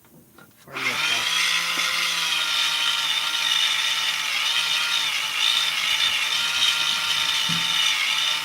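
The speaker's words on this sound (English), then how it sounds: "Is that wire wheel?" A wire wheel on a power tool whirs up abruptly after a brief quiet start, then holds a loud, steady high-pitched spin with a faint brushing rasp throughout.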